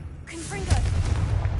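A fiery Confringo spell blast in the video game Hogwarts Legacy: a short spoken word, then a deep booming burst that rumbles on to the end.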